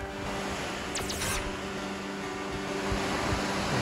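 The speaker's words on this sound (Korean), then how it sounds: "흰수염 폭포입니다" Shirahige waterfall flowing in winter in Hokkaido, a steady broadband rush of falling water heard from a distance, constant and unbroken with a faint tonal hum beneath.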